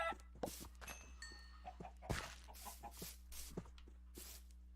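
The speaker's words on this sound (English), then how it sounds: "Any more chickens coming in?" Chickens clucking in a video game, short faint clucks and thunks scattered irregularly over a low background hum.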